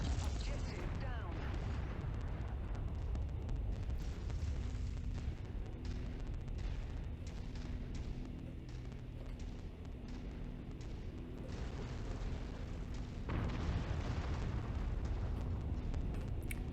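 Explosions in MechWarrior 5: Mercenaries as artillery platforms are destroyed, heavy rumbling blasts and a dense low roar of battle noise that goes on throughout, mixed with game sounds.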